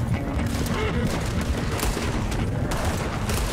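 Gunfire in the Red Dead Redemption 2 video game crackles in repeated sharp bursts over a dense, rumbling game soundscape.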